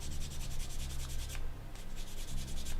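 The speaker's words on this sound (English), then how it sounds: "sanding down the surfaces to smooth the surfaces out a little bit" A miniature figure's surfaces are sanded smooth by hand in quick, even back-and-forth rubbing strokes, close and steady, with a brief pause partway through.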